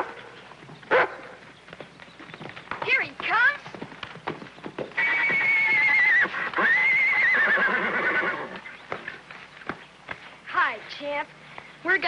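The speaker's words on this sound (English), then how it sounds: "We're gonna show somebody what a real horse is." A horse whinnies loudly and at length in an old western TV episode, with hooves clip-clopping and people talking around it.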